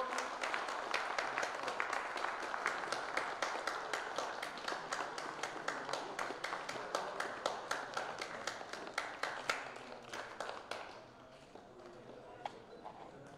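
Audience at the opening of a retired teachers' community general assembly in Kaski claps steadily and densely for about eleven seconds, the sound staying loud and even before it stops abruptly, leaving only faint scattered claps.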